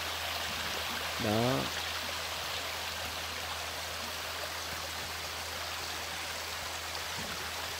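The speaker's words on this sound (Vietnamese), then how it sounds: "Bạn nghe tiếng nước chảy róc rách không?" A mountain stream babbles steadily along a steep, rocky truck track, a continuous close hiss of flowing water with a low engine hum beneath and a single brief spoken word near the start.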